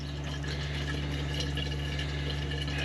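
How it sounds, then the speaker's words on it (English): Reverse osmosis water runs steadily into a household container, a constant broadband hiss with a low hum beneath, even and unbroken throughout. "making some reverse osmosis water for the household use"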